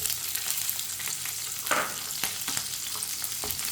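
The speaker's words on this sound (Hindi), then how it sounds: "1 मिनट के लिए पका लेंगे सब्ज़ मिर्च को।" Green chillies sizzle and fry in a pan of hot oil with whole coriander seeds for masala bhindi, a steady crackling hiss with occasional louder pops, close and alone with no talking.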